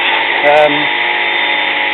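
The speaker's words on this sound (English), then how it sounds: "So I started sawing this up." A steady, high buzzing whine of a power saw cutting wood runs throughout at constant loudness, with a brief change in pitch near the start.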